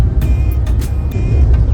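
A car cruising on the Delhi-Dehradun Expressway, heard from inside as a loud, steady road and engine roar with a few short bumps and thumps.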